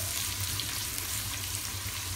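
Onions frying in oil until brown for a bean curd masala, a dense steady sizzle with a low bubbling undertone, close and even for the whole stretch, no voices.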